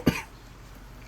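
A single short cough, close and fairly loud, followed by quiet room tone.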